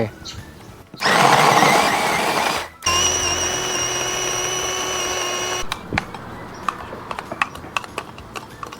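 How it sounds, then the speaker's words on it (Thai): An electric blender whirs loudly in two bursts, the second a steady motor whine with a high tone, then stops and leaves scattered clicks and clatter. "ใช้เครื่องปั่นแบบสะดวกรวดเร็ว"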